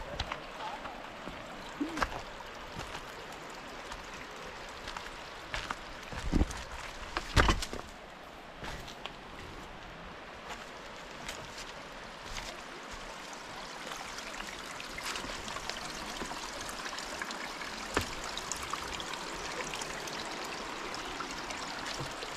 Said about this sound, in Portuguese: Olha só o barulhinho da cachoeira, já dá para ouvir daqui.